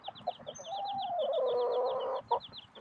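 Hens cluck in short repeated bursts and one draws out a longer, rising squawk in the middle, close and clear with no talking over them.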